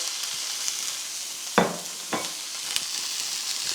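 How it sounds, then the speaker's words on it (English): Ground beef sizzles in an olive-oil-coated pan, with a soft steady frying hiss broken by a few sharp crackles and a brief louder burst as the meat settles. "we're gonna go ahead and put the burger in"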